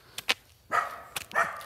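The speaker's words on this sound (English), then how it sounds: "Guard dogs right here." Small household dogs give a few sharp, close barks and yips in quick bursts, the last ones more drawn out, with no talk.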